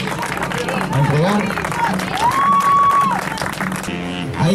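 Crowd applause at a Spanish-language award ceremony as flowers are handed to winners, steady clapping mixed with crowd babble and a voice speaking over it.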